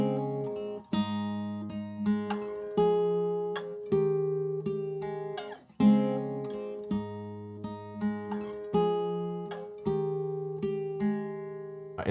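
Acoustic guitar picking the verse pattern of a cover version of a song, bright fingerpicked arpeggios with ringing chords shifting every second or so, steady and close with no voices.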